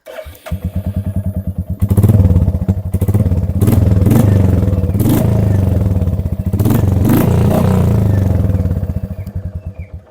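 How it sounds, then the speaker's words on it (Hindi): A Royal Enfield Hunter 350 with a custom exhaust: deep, thumpy exhaust idles and then revs up several times, loud and close, with rhythmic low pulsing between throttle blips. "एंड अभी आपको मैं सुनाता हूँ एग्जॉस्ट नोट"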